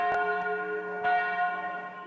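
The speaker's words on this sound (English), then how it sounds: "Bells at the Church of the Nativity summoned the faithful to the little town of Bethlehem" Bells at the Church of the Nativity in Bethlehem ring out with two clear strikes about a second apart, their bright metallic tones lingering and slowly fading.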